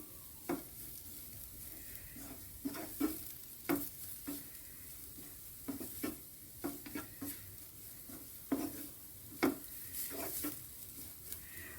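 Black pepper powder and garam masala stirred in a hot pan while sautéing for idichakka (tender jackfruit) cutlets, with a steady low sizzle broken by repeated scraping spoon strokes, close and fairly quiet, no talking.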